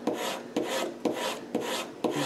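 Paper being rubbed firmly by hand for an image transfer in a journal: five steady, even strokes sweep back and forth in a regular rhythm, close and clear, with no voices.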